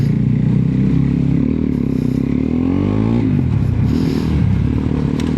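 An off-road motorcycle ridden through floodwater on a highway in Apalit, Pampanga, its engine loud and close, revving with a rising pitch, while water splashes and rattles around it.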